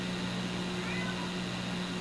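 A cat gives a faint, brief meow in a quiet house basement, nearly lost under a steady electrical hum.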